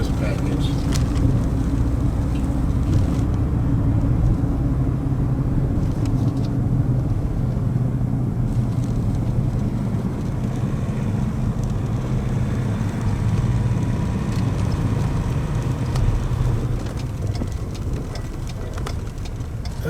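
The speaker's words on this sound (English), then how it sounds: "That sound of all-terrain tires is the sound of adventure for me." Ford Ranger Raptor on all-terrain tires rolling along a road, a steady broadband roar of tire and engine noise that stays loud and continuous throughout.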